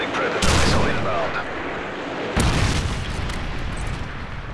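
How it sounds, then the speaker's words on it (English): Predator missile strikes in Modern Warfare 3 land as two heavy explosive booms, the first at about half a second and the second near two and a half seconds, each followed by a long roaring rumble. "Friendly predator missile inbound."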